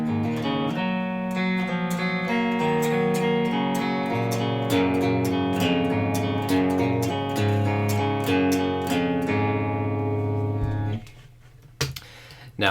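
Guitar plays a riff at full tempo, with a bright, continuous run of picked notes and chords that stops abruptly near the end, followed by brief handling noise.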